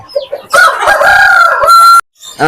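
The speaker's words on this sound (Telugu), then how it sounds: "మజార్ భాయ్ ఈ విడికాల పుంజు గురించి" A rooster lets out one loud, close crow, long and drawn out, then breaks off abruptly.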